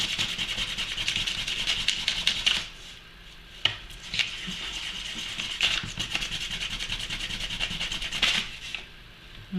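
Sandpaper rubs rhythmically over painted polymer clay, taking off the top layer of paint in faux turquoise work. Close, scratchy strokes come in bursts with short pauses between them.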